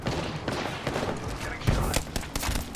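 Rapid gunfire bursts in a ranked video game match crackle densely and continuously, with a loud hit near the middle as a player lands a headshot; voices are faintly audible underneath.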